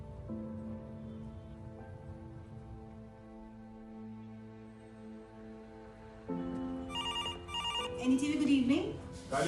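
A telephone rings in a busy news office, a repeating electronic ring under low room noise, while people speak nearby.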